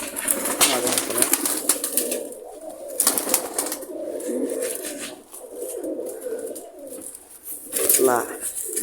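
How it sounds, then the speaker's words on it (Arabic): Pigeon on a rooftop cooing close by in a few soft, repeated bursts, heard under near-continuous talk from a man nearby. "هو هذا الطير"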